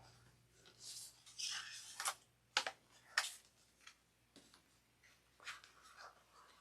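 A marker or pen drawing a line across fabric lining while sewing a crossbody bag, with short scratchy strokes and taps in irregular bursts, close and fairly quiet.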